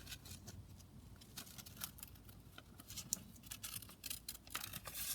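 Scissors snip through paper for a junk journal made from book and magazine pages, a quick run of short crisp cuts, close and fairly quiet.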